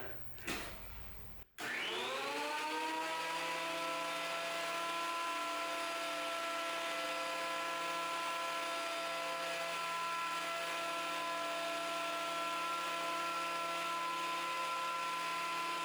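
A thickness planer flattening a wooden board: after a brief noisy start, the motor whines up to speed and then holds a loud, steady, even drone for the rest of the time, with no talking.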